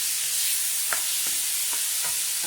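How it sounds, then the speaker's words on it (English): Codfish frying in a pan while being stirred for a Jamaican dinner, a constant bright sizzle with several soft scraping stirs underneath, close and steady, with no talking. "So I've added my codfish. I'm just going to make a stir and stir that up."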